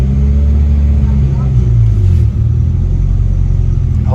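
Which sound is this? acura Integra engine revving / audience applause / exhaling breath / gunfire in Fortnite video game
acura Integra engine revving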